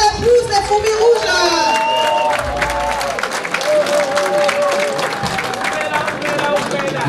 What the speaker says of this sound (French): On va encore applaudir une fois de plus les Fourmis Rouges.